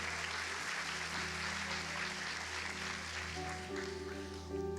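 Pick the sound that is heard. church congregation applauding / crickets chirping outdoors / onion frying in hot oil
church congregation applauding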